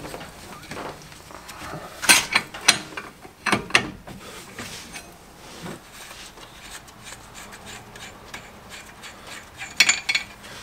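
A ratchet wrench clicks and rattles metallically while loosening a 30 mm nut on a car wheel hub during a wheel bearing change, with loud bursts of clicks early and near the end and quieter mechanical clatter between them.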